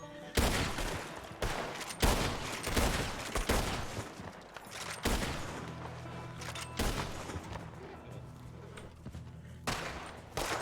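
Rapid gunfire rings out in a RedM Wild West roleplay shootout at a saloon: repeated loud bursts of shots in clusters, some overlapping like a fusillade, separated by short pauses across the whole stretch.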